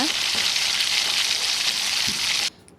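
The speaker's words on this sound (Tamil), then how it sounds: "அதே மாதிரி மீனையும் நல்லா பொறிச்சு எடுத்துக்கோங்க" Seer fish frying in hot oil for fish pickle gives a loud, steady crackling sizzle that runs unbroken for over two seconds, then drops away abruptly to a quiet hiss near the end.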